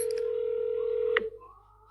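During a phone call, a steady electronic ringing tone plays on the line for just over a second, then cuts off with a click, leaving faint line hiss.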